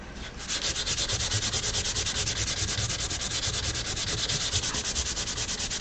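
Sandpaper rubs steadily across a piece of wallpaper, a continuous close, loud scratchy rasp with a fast back-and-forth texture that runs evenly for the whole stretch, with no talking.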